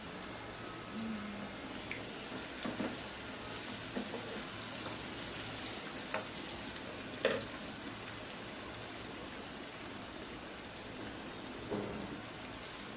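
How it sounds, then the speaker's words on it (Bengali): Onions frying in oil for chicken korma, a steady soft sizzle throughout with faint stirring clinks now and then, fairly quiet and with no talking. "এখন আমি পেঁয়াজগুলো বেরেস্তা করে নেব"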